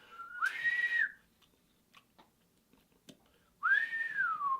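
Two sustained whistled notes, each rising then gently falling, with a quiet pause between them; close and clear, with no talking.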